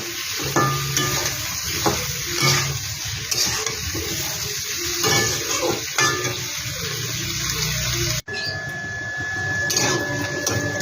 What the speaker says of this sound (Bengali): একসাথে যে সম্পূর্ণ ভেজে নিচ্ছি